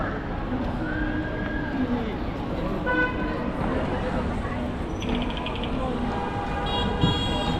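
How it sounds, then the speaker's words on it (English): Busy street noise on Zhongshan Avenue, Wuhan, China, with short car horn toots here and there, a crowd murmuring and traffic rumbling throughout. "A lot of horn honking."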